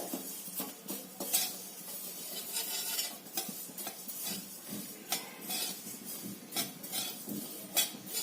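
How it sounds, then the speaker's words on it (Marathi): Sesame seeds, poppy seeds and cumin dry roast in a hot kadhai, with a spatula stirring and scraping in a steady, uneven rhythm, producing faint rattles and clinks close by, with no talking. "अगदी एका मिनिटात हे छान भाजलं जातं तीळ आणि खसखस जिरे भाजलेले आहेत"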